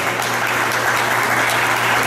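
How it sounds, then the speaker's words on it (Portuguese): Applause from a crowd at a party, a loud, even wash of clapping that holds steady for a couple of seconds with no speech. "o povo vai aplaudir Cício Gato"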